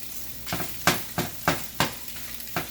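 Salmon burgers sizzle steadily in a hot pan, broken by five or six sharp scraping bursts as a spatula works and flips them, close and rhythmic with no voices.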